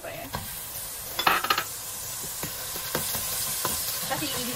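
Garlic and onion sauté in a pan for chicken bukhari, a soft sizzle under repeated sharp scrapes and clinks of a utensil stirring against the pan, fairly close.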